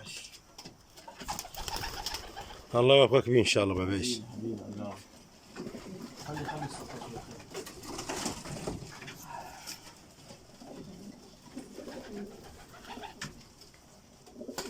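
Pigeons in a loft give a burst of low, throaty cooing that repeats in pulses, fairly close, mixed with wing flutters and rustling while someone talks nearby.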